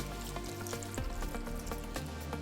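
Boiling water is poured over LECA clay balls in a container, making a steady hissing, sizzling wash of sound with small crackles, continuous and close throughout.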